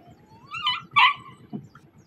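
A dog whimpers close by in two short rising whines, followed by a brief low yip, all over a soft steady rumble of background noise.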